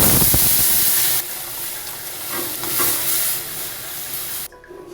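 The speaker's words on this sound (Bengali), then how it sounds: "এবার সিদ্ধ ডালটা দিয়ে দিচ্ছি।" Boiled red lentils poured into a hot pan of dry chilli, cumin and turmeric, giving a loud wet sizzling rush that settles into a steady hiss before the sound suddenly drops.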